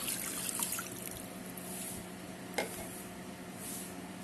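Raw chicken being washed clean under water, a soft steady trickle and splashing with a brief sharp knock midway, close and fairly quiet, without speech.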